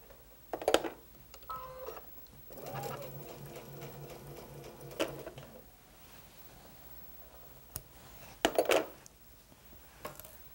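A sewing machine stitches off a corner on a quilted Y seam for a bridal bouquet nosegay block, running in a couple of short bursts between clicks and handling noises, with faint quiet stretches in between.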